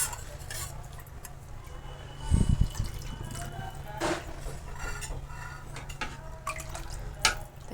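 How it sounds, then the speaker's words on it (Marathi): Water goes into a pot of Maharashtrian-style besan and curd kadhi with a short splashing pour, then light clinks and drips, with a steady low hum of the kitchen behind. "आणखी थोडंसं पाणी टाकणार आहे."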